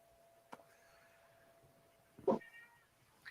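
A cat meows once loudly at close range, following a soft click, in an otherwise quiet room.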